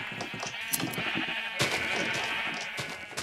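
A flock of sheep bleats repeatedly in the video game Minecraft, overlapping calls over a busy backdrop of game sounds, steady and moderately loud.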